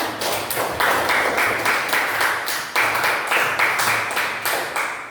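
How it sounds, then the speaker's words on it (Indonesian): A classroom group applauds students after their presentation, with dense hand clapping in quick, steady bursts that stay fairly loud and close for the whole stretch. "Coba tepuk tangan untuk teman-temannya."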